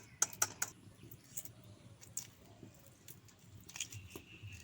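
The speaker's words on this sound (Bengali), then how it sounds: "এভাবে একটু চারিদিকে খোসাটা ফাটিয়ে নিচ্ছি" Boiled eggshells being tapped and cracked all around before peeling, a quiet scatter of small sharp clicks and crackles, a few close together at the start and more spread out later.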